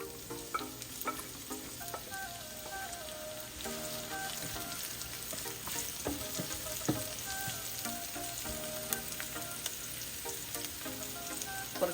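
Onion sautéing in hot oil for a cauliflower manchurian gravy, giving a steady close sizzle and crackle with occasional stirring clicks throughout.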